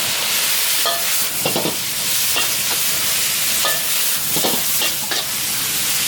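Young coconut shoots stir-fried with holy basil, shrimp and pork at a Thai food stall, with steady loud sizzling throughout and repeated clanking stirring strokes from a spatula in the wok.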